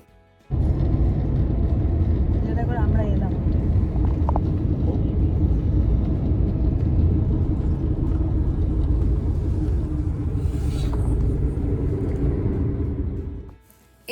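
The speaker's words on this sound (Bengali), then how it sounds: "চড়ে বসলাম ফ্লিক্স বাসে" A FlixBus double-decker coach on the road to Munich gives a steady, loud low engine and road rumble heard from the top deck, continuous throughout before cutting off at the end.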